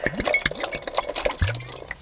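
Filtered water trickles and drips into a small container, a few distinct close splashes and drips followed by a short steady pour near the end, quiet and intimate with no speech.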